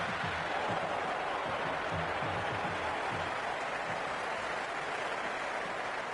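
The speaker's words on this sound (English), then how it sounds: "There's an almost tangible fervour throughout the crowd at the moment." A cricket crowd at a T20 match applauds in a broad, steady wash of clapping and crowd noise that holds evenly throughout.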